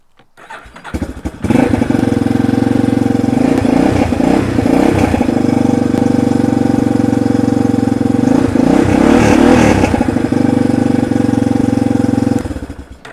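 A Yamaha Warrior 350 ATV with an aftermarket exhaust cranks, catches and starts, then idles loud and close with a steady, throaty rumble and a couple of brief blips before cutting off near the end.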